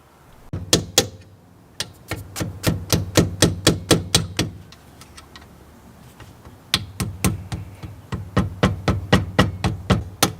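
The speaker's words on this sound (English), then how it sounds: "Slowly use your mallet, your hammer, just to slowly knock it out." Rapid metallic tapping of a mallet on a metal Allen key driving out the rear brake pad pins on a Lexus RCF, in two bursts of about a dozen sharp, close strikes separated by a short pause.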